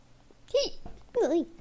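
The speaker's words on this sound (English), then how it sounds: "Hiccups." Two short voiced hiccup-like bursts from a boy in an otome visual novel, one after the other, each with a rising-falling pitch, close and fairly loud over a quiet background.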